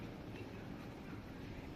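A 1970s French Corail passenger train running, heard from inside as a steady, continuous low rumble and rolling noise with no distinct clicks, fairly quiet throughout.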